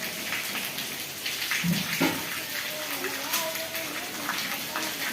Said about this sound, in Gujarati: અત્યારે વરસાદ ધોધમાર ચાલુ છે